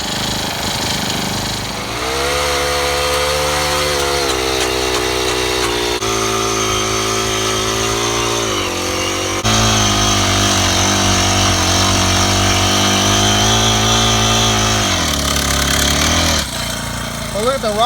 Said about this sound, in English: A little Honda 4-stroke.